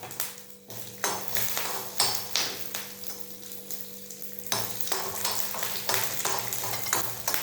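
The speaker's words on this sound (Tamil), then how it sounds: "கடுகு வெடிச்ச உடனே தாளிக்கிறதுக்கு கொஞ்சம் கடலைப்பருப்பு, மிளகா வத்தல், வெந்தயம் அண்ட் கருவேப்பிலை எல்லாத்தையுமா சேர்த்தி போட்டுக்கோங்க" Tempering of mustard seeds, chana dal, dried red chillies, fenugreek and curry leaves in coconut oil, sputtering and sizzling close up with repeated rhythmic scrapes and clinks of a spoon against the pan, no talking.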